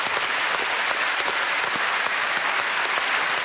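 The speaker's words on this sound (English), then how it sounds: "Let's give him a round of applause." A studio audience claps loudly and steadily, a dense continuous round of applause that lasts the whole moment without a break.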